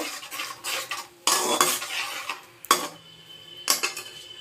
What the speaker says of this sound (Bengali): টমেটো কেচাপ, একটু অ্যাড করলাম সামান্য, নেড়ে দেব